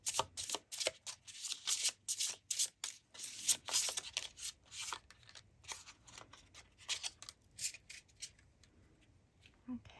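A deck of mushroom oracle cards being shuffled close up, with repeated crisp riffling bursts in an irregular rhythm that soften toward the end.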